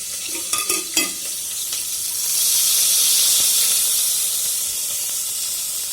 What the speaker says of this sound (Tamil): வதங்கிக்கிட்டு இருக்கிறது வெங்காயம்